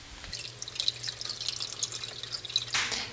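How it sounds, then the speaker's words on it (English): Rainwater and tap water pour and trickle into an AeroGarden reservoir, a steady splashing stream with a low hum beneath, ending with a brief louder splash. "I'm just going to keep alternating rainwater and tap water until it hits that max line that's right there"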